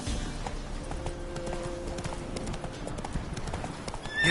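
Hooves of the horse Roach clip-clop steadily at a gallop in the Witcher video game, a continuous close rhythmic clatter over ambient game sound with a brief whinny-like tone near the end.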